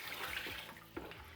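Cold water pours steadily into a sugar-dissolved rhubarb and ginger wine mixture, a continuous watery splashing that runs throughout, close and moderately loud with no talking.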